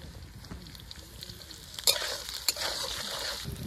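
Unpeeled potatoes fry quietly in a pan, a soft continuous sizzle broken by a couple of clinks and scrapes as they are stirred.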